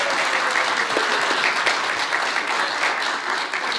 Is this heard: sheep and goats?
no